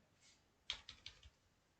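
A few quick, quiet keystrokes on a computer keyboard, a short burst of four or five clicks in a hushed room.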